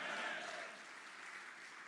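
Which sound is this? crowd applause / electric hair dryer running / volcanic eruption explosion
crowd applause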